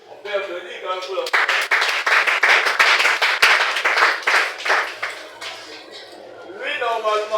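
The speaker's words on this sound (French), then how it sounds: "On peut applaudir quand même pour la." Small audience at a training graduation evaluation clapping for a while, a scattered burst of claps that builds and fades, framed by a speaker talking before and after.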